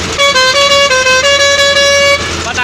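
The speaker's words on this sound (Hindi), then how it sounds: "बताना भाई हॉर्न की आवाज कैसी लग रही है आप" A loud, close horn of an Indian truck near Nashik blares in one sustained, slightly wavering honk lasting about two seconds, then cuts off.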